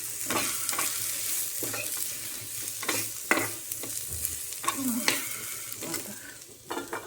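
Onion and spices fry in a pan for a chicken 65 curry, a steady close sizzle broken by repeated scraping stirs of the spoon throughout, with no talking.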